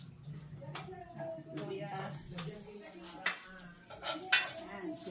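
Garlic, onion and ginger stirring in a pan, heard as a soft, steady scrape of utensil on metal with scattered clinks and taps and a faint background bed of cooking noise.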